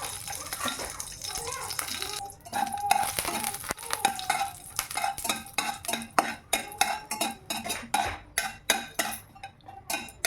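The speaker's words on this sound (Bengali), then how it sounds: "দেখো লঙ্কা দুটো ভেজে তুলে দেবো" Two green chillies frying in oil in a pan for a bathua greens mash, with a busy wet sizzle and a rapid run of rhythmic stirring and scraping clatters, close and fairly loud.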